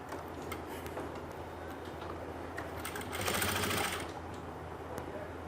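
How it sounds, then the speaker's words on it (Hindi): A sewing machine runs a long basting stitch on an angrakha-style umbrella kurti, a quiet rapid ticking needle rhythm that picks up into a louder whirring burst midway before settling back. "अब हमें एक कच्ची सिलाई लगानी है।"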